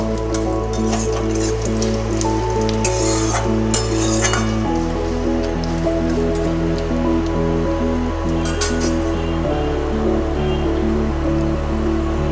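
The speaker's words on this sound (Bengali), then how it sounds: "আর শুকনো লঙ্কা একটা ফোড়নে দিলাম। ভালো করে ফোড়নটা ভেজে নেব।" Dried red chilies and cumin seeds frying in hot oil give a faint, steady sizzle dotted with sharp pops and crackles, set under a bed of sustained tonal background music.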